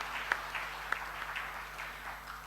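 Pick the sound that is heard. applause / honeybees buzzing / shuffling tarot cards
applause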